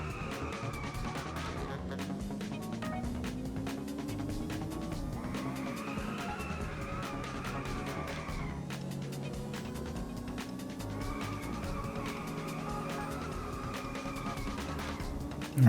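A race car in the drifting game Inertial Drift, its engine revving up and down through repeated gear changes, with tire squeal running steadily throughout.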